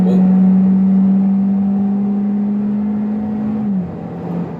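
A 2019 Hyundai Elantra with a naturally aspirated 2.0-litre engine accelerates in sport mode, a steady loud drone heard from inside that holds pitch, then drops as the revs fall near the end.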